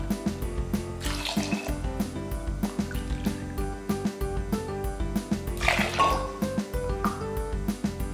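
Water splashes and gurgles in two short bursts as three cups are poured into a pressure cooker, over a backdrop of steady rhythmic background music.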